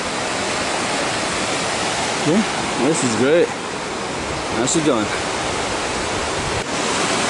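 Big Falls waterfall in Forest Falls, California pours as a steady broadband rush that fills the scene from start to finish, with someone talking briefly over it partway through.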